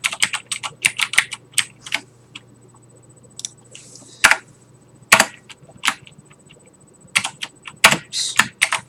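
Rapid clicks from a mechanical computer keyboard, typed in uneven bursts with short pauses between them, close up and fairly loud against a quiet room with a faint low hum.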